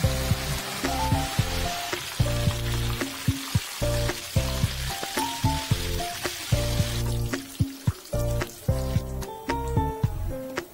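Chicken in spiced ungkep seasoning fries in hot oil in a pan, a steady loud sizzle broken by bursts of spatter and the clatter of utensils stirring and turning the pieces, with no talk.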